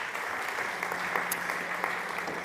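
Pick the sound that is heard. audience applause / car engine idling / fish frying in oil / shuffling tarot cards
audience applause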